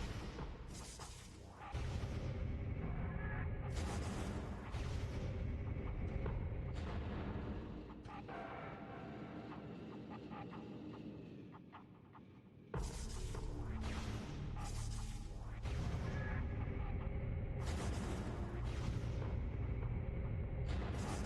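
Morph Ball bombs going off in a Metroid game, a fairly quiet but dense run of repeated booming blasts in long sustained stretches, with a brief dip before the explosions resume.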